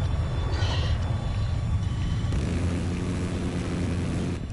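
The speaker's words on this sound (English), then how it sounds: "Some jet." A jet aircraft flying in Battlefield 4 gives a loud, steady engine roar and rumble that fills the whole stretch, with the tone shifting slightly partway through.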